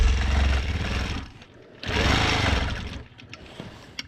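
A longarm quilting machine stitches dense fill on a client quilt, its motor whirring loudly in two sustained runs separated by a brief pause, then fading to lighter, intermittent stitching.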